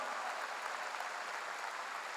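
A congregation at a Korean church revival service claps together, a soft, distant, continuous patter of many hands held at a low, even level throughout the short moment.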